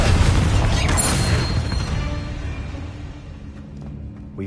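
A fiery Confringo spell explosion in the Hogwarts Legacy video game, a loud booming blast that opens the clip and rumbles away into a fading low roar over several seconds, with no talk.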